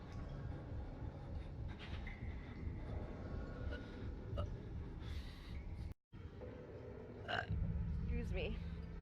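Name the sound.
person burping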